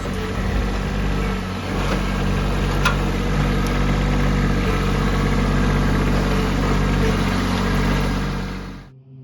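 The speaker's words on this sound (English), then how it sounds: "even though you can hear the tractors in the background." Heavy tractor engines rumble loudly and continuously nearby, a deep steady drone that cuts off abruptly at the end.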